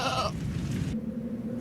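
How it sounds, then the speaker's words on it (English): A real goat bleats once, loud and close, in a drawn-out wavering cry that runs without talk. "it's an actual goat"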